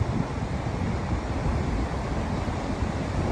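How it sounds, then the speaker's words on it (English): Strong wind buffets the microphone on an Oregon coast beach while ocean waves roar steadily, a loud, unbroken broadband rush with no voices. "we were surprised how cold it was, hiking against the strong wind"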